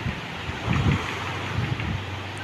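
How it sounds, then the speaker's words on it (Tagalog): Strong coastal wind buffets the microphone over the low, steady wash of sea waves, with a few louder gusts partway through. "Kusog kay ang hangin og balod jud pud mamalod jud siya."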